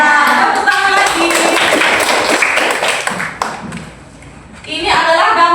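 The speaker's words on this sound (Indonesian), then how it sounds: "Tepuk tangan lagi." Children in a classroom clap in a busy, uneven burst with a teacher's voice over it, fading near the end before chatter rises again.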